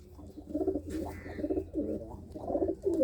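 Old desi pigeons coo in a loft in the Anandpur Sahib area, a run of low, throaty, rolling coos repeating close by with short gaps between them.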